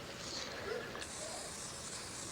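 An aerosol can spraying paint onto hair, a steady soft hiss running throughout that sharpens and brightens about halfway through and continues to the end.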